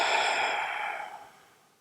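Forceful exhalation during a diaphragmatic bhastrika breathing exercise, a single loud breathy rush of air that fades away over about a second and a half, close and alone.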